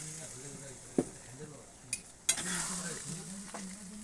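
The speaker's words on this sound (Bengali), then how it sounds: "এখন দিয়ে দিব অল্প জল, বেশি দিব না, অল্পই দিয়ে দিলাম" Goat meat cooking in a pan takes a small splash of water, and a sudden burst of hissing sizzle rises partway through over a low, wavering tonal hum, with a few sharp clinks scattered around it.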